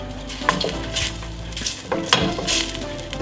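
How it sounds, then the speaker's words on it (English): Minced shallot and garlic sizzle and fry in hot coconut oil in a pan, with stirring clinks and scrapes of a utensil over the steady frying hiss, close up. "Once heated up, we're going to add in the minced shallot and garlic"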